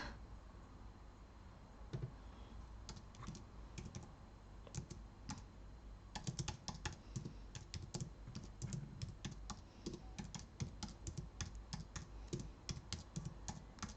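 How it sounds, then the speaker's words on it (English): Slow, uneven one-finger typing on a computer keyboard, single key clicks with irregular pauses and a denser burst later, close and fairly quiet over a steady room hum. "One finger typing."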